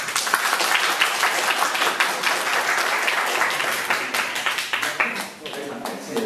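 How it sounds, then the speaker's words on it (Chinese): An audience at an indoor talk on rearing Hercules beetles breaks into warm applause for a speaker, many hands clapping loudly and continuously at close range, with a voice heard over the clapping. "我们就啊用最热烈的掌声，好，我们欢迎啊赖廷奇 Jonathan"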